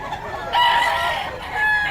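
Gamefowl roosters at a market in Bocaue cluck and call in a short, close burst of continuous bird noise, with no talking over it.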